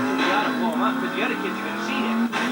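A car drives in the PlayStation 2 game Roadkill, its engine droning at a steady pitch with some tire squeal while voices talk over it.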